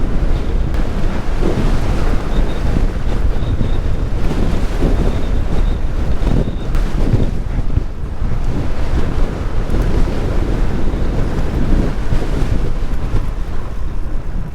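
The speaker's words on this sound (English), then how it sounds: "there is that added element of stronger wind force" Strong wind buffets the microphone continuously during a mountain bike ride at Gunnerside, a loud, unbroken roar with gusty swells and no talk.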